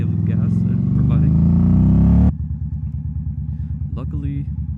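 A motorcycle engine drones and rumbles while riding, a steady throb that shifts to a lower pulsing putter as the bike slows, with someone talking over it.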